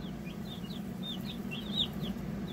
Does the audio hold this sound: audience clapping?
no